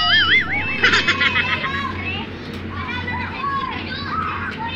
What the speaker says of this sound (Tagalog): medyo maingay yung ating paligid kasi nasa labas tayo na kalsada, may mga naglalaro mga bata.